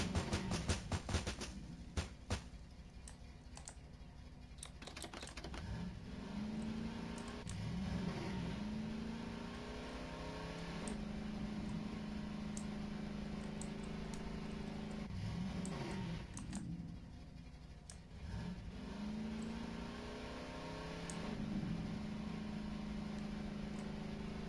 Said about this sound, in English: I feel like I'm hearing what almost sounds like another engine that isn't the ATV.